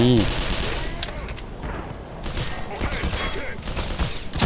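Automatic gun turret firing bursts in the video game Black Mesa, rapid dense gunfire rattling through most of the stretch amid other game noise, with a voice talking over it.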